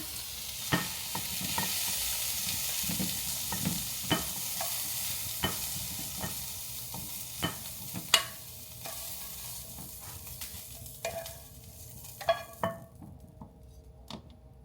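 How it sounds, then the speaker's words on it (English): Red peppers sizzle in a hot pan beside shrimp and asparagus, a steady crackle punctuated by regular clicks and scrapes of a utensil, fading near the end. "I'm going to add my red peppers to the pan"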